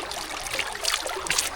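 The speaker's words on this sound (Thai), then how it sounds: "น้ำไหลจากธรรมชาติ" Natural mountain water flowing steadily near a remote traditional highland village, a close, continuous trickling and splashing with brighter bursts partway through, with no one speaking.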